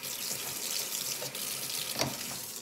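Tap water running into a stainless steel sink, a steady close hiss and splash with a few brief clunks, no talking.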